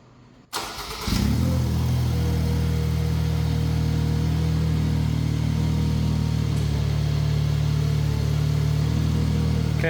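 A Ventrac compact tractor engine cranks and catches after a short silence, then settles into a steady, loud mid-pitched running drone that holds for the rest of the clip.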